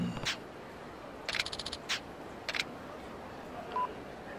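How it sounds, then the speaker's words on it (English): Phone ringing in the video game Yakuza 2, heard as short bursts of a bright electronic tone: a few separate blips with a quick stuttering run of beeps, moderately loud over quiet background, no talking. "I got a phone call."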